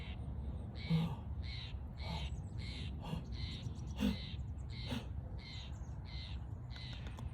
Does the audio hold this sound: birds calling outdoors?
yes